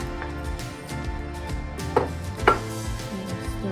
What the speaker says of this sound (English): And stir that in nicely.